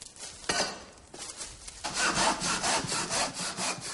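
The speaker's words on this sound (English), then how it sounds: "I've been roped into sawing wood to make charcoal for the gunpowder." Hand saw cutting through wood being prepared for charcoal for gunpowder, a few slow strokes at first, then steady rhythmic back-and-forth rasping strokes, close and fairly loud, with no talk.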